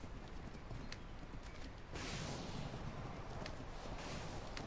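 Steady clip-clop of horse hooves in a video game, at a trotting pace, continuous and fairly close, with a broad rushing background that swells midway.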